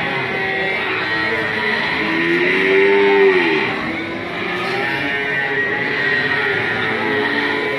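Cattle low at the Ambar Ketawang cattle market among big lemon-breed cows, one drawn-out moo rising out of a dense, continuous crowd and market din.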